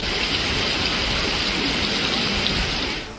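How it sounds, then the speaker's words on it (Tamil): Heavy rain with wind pours over Madurai in Tamil Nadu, a loud, dense, steady roar of falling water that fills the whole stretch without pause and with no voices. "மதுரை மாநகரின் பல்வேறு பகுதிகளில் அரை மணி நேரத்திற்கு மேலாக காற்றுடன் கனமழை பெய்தது"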